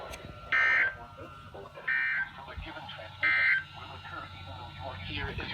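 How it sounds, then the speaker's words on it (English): Three identical loud electronic alarm beeps from an Emergency Alert System tone alarm test, each about a third of a second long and evenly spaced over a low broadcast background hum. "This concludes the tone alarm test."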